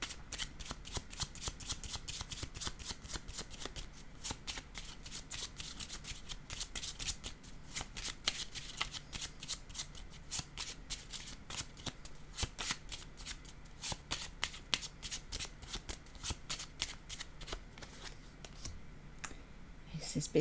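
Playing cards are shuffled and handled during a card reading in a long, continuous run of rapid, close papery riffles and flicks at a soft, steady level.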